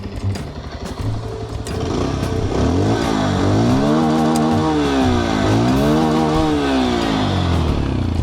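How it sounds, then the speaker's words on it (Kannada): A 2026 Bajaj Pulsar 150 motorcycle exhaust note during a ride: the engine revs up and down through gears in loud, close sweeps that rise, fall and rise again, with no talking. "ಎಕ್ಸಾಸ್ಟ್ ನೋಟ್ ನಿಮಗೆ"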